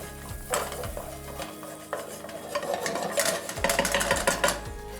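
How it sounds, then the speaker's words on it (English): Finely diced shallots sizzle in butter over a medium-low flame for Cajun shrimp and sausage pasta, a soft steady crackle with clanks of a spoon against the pan and a low hum, close by. "we're gonna put those there in the butter, and we're just gonna let those cook over a medium-low flame"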